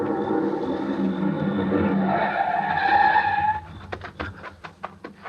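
A car's tires skid and squeal in a long, loud screech as the car brakes hard on a road at night, then the squeal cuts off and a few scattered clicks and knocks follow.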